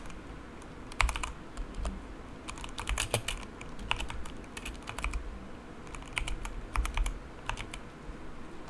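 Keys clatter on a computer keyboard in quick irregular bursts with short pauses, close and fairly quiet, with no voice.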